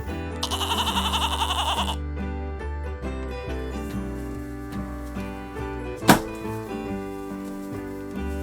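A goat bleats in a wavering, harmonic cry for about two seconds at the start, over a steady droning musical background, followed by a sharp thump partway through.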